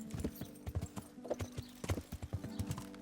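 Horse hooves clip-clopping at a steady walking rhythm in the medieval game Kingdom Come: Deliverance, close and distinct, with a faint whinny-like tone beneath the repeated hoof strikes.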